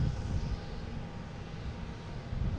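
Delta airliner arriving at Boston Logan International Airport, a steady broadband engine roar with a low rumble, loud and constant throughout the short stretch.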